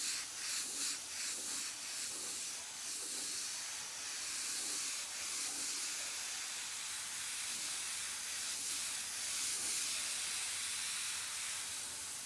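An airbrush sprays paint in a soft, continuous hiss of compressed air, faint and close, swelling and easing slightly as the spray is worked across the surface.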